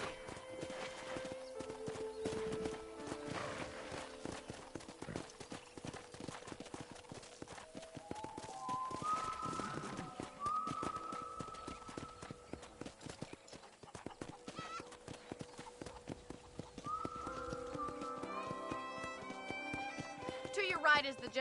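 Hooves clip-clop in a steady rhythm throughout in the video game Red Dead while people talk over them, with a horse whinnying briefly.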